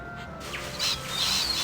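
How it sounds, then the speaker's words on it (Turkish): Small birds chirp in a few short, faint, high tweets outdoors near a neighbor's yard, over a soft background hiss. "Yine çok kuş çıktı içinden."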